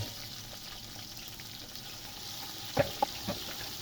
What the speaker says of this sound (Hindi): गरम मसाले को भून लिया है तो अभी हम इसमें प्याज ऐड कर देते हैं।